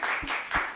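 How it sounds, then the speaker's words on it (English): A brief, thin patter of clapping in a podcast studio, short and fairly quiet, with a couple of low thumps standing out. "Can I hear a big round of applause?"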